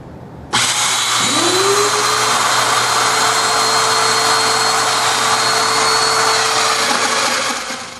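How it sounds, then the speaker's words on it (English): A Festool Domino DF500 joiner cuts mortises for dominoes in a mitered frame, its motor spinning up sharply and holding a loud, steady whine for about seven seconds, close by with no talk. "Go ahead and make the mortises for the dominoes."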